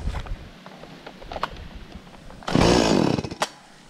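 A chainsaw cuts into a tall mango tree, a loud burst of engine roar and cutting lasting about a second, preceded by quieter rustling and scattered knocks.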